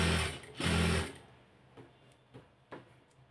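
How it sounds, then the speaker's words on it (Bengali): A sewing machine runs a close, loud burst of stitching beside elastic for about a second, then falls quiet apart from a few soft ticks and clicks of handling. "এখন রাবারের পাশ দিয়ে সিলেটা দিতে হবে যেন রাবারের উপর সিলেটা না পড়ে"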